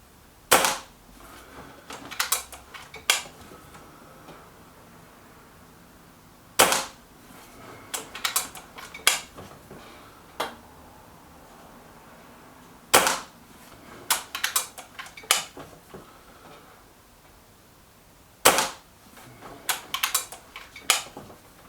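Kral NP 03 air rifle firing JSB Match Diablo pellets: several sharp, loud shots spaced a few seconds apart, each followed by quick clicking of the action being cycled and reloaded, with no talking.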